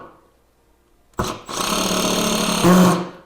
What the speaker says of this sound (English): I have a drill, so it'll make it easy for me to screw them in.